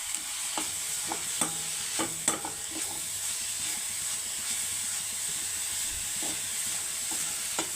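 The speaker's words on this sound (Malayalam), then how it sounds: "ഇനി നമുക്കിവിടെ തേങ്ങ വറുക്കാം." Grated coconut roasting in a pan: a soft continuous sizzle with repeated scraping clicks of a spoon stirring, close up.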